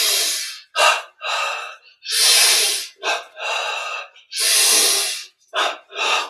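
Deep, forceful breaths during a yoga breathing exercise, several long whooshing inhalations and exhalations repeating in a steady rhythm, close and loud with no talking.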